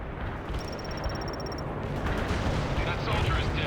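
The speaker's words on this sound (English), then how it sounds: "That artillery is closing in." Incoming artillery in the Cold War strategy game World in Conflict rumbles as dense, continuous explosions and gunfire that swell louder toward the end, with a brief thin electronic beeping early on.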